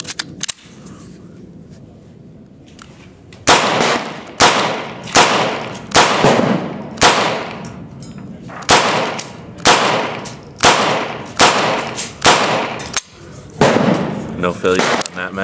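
A ZIP22 .22 pistol emptying a magazine outdoors: about twelve sharp, loud cracks at a fairly steady pace of roughly one per second, each with a short decay, after a few quiet seconds.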